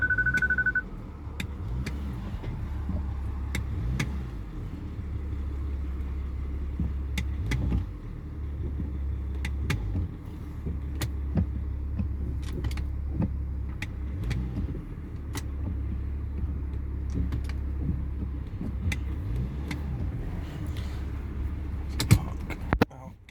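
A 2005 BMW 525d M-Sport moves off a sloped driveway, its diesel idling as a steady low hum with a few faint clicks and knocks over it, then a sharper bump near the end.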